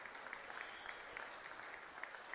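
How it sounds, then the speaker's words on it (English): Steady, distant crowd applause at a county 4-H fair dairy and beef steer show, an even patter of many hands that continues without a break. "give her a big round of applause"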